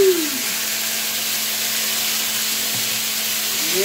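Hot fat sizzling and spattering in a cast iron pan while seasoning it, a loud, steady hiss with crackling, close and continuous, with a faint tonal hum underneath.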